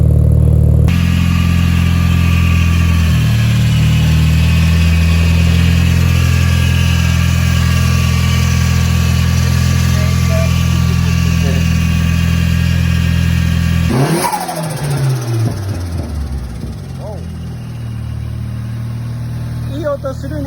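A tuned Nissan Silvia S14 with an SR20DET engine idles steadily on a dyno, a loud low drone for most of the clip, then a sharp blip of revs near the end before it settles back.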